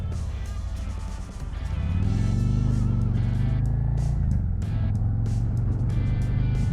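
A 2022 Harley-Davidson Road Glide ST with the Milwaukee 8 117 V-twin pulling away into traffic, its deep rumbling idle swelling into a loud, close throaty acceleration that holds steady as it rolls on.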